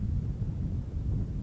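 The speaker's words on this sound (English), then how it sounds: "Hear the wind?" Steady low wind rumbling and buffeting against the microphone on a hike, a continuous gusty roar with no voices.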